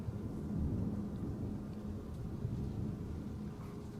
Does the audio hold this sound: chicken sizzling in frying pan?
no